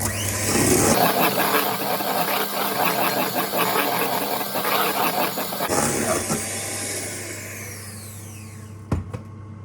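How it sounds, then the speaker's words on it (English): Japanese cheesecake soufflé mixture is whisked with a loud, steady motorized whir that settles into a lower hum partway through, followed by a brief clank near the end. "Whisk again."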